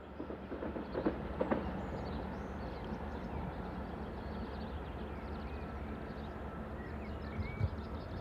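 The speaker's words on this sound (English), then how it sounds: "The train has just emerged from the 584-metre long Kirchheimer Tunnel and approaches the station stop at Kirchheim." A Class 146 train coming out of the 584-metre Kirchheimer Tunnel and approaching the Kirchheim station stop, heard as a steady mid-distance rumble with a few brief clanks and no voices.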